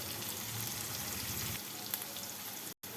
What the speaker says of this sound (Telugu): పచ్చివాసన పోయే వరకు మనం వేయించుకోవాలి